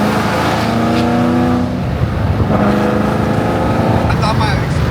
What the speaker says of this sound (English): I thought my exhaust disconnected. It's because it's rattling. It's like louder than usual